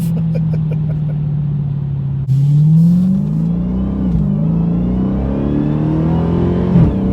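A Dodge Challenger Hellcat with a track transmission revs hard while accelerating, its loud, close engine note climbing steadily, dropping briefly at a gear change and then rising again, with a second dip near the end.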